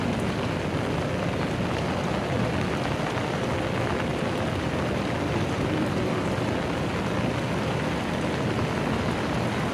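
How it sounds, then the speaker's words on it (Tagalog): Heavy rain pours steadily at Venice Taguig, a dense, even hiss of drops striking surfaces that stays loud and unbroken for about ten seconds, with no voices. "Ang lakas ng ulan guys,"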